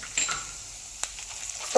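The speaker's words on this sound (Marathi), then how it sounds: "तेल तापलाय आहे तर त्यामध्ये जिरे आणि खडे मसाले" Cumin and whole spices hiss softly as they hit hot oil in a kadai, with a few sharp crackles and pops over a short moment.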